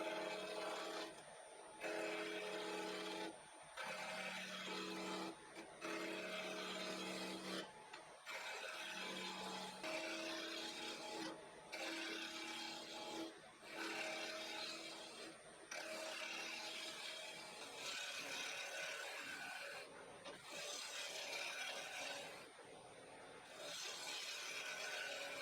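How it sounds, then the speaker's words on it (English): A wood lathe spins steadily while a 3/4 inch spindle roughing gouge scrapes and rasps against the turning blank to round it, a continuous hiss broken by brief pauses, with no talking. "I'm using a 3/4 inch spindle roughing gouge to get this round."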